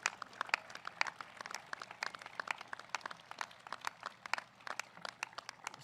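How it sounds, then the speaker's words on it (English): Faint, scattered hand clapping from a graduation ceremony audience at a high school commencement, sparse, uneven claps spread through the whole stretch rather than a dense ovation, with no talk over it. "let's give this group a big round of applause"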